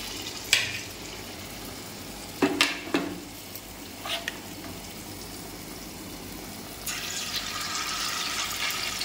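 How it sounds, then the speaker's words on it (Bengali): Fritters (bora) for veg biryani being fried in white oil. A faint, steady sizzle is broken by a few clinks and scrapes, and the frying grows louder toward the end. "এবার বড়াগুলো ভেজে নেব।"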